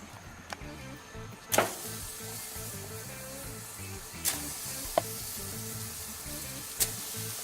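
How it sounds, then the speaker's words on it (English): Ribeye steaks sizzle on a CharGriller 50 gas grill, a steady broadband hiss running throughout with a few sharp clicks and pops standing out, no voices. "let's go ahead and throw our ribeyes up on here"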